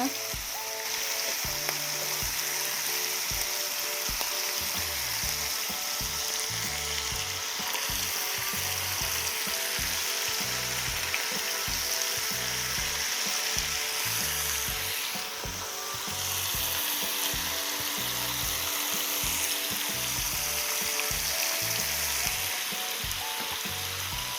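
Skewers of kimchi and pork fry in a pan with a continuous close sizzle and spitting crackle. The faint scrape of turning runs through it, and nobody speaks.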